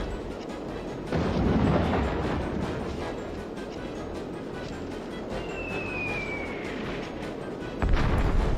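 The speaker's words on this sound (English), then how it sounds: "we just shoot stuff with the cannon" Continuous heavy rumbling cannon fire in Warhammer: Dark Omen, with a loud burst at the start and another near the end, plus a brief whistling streak overhead.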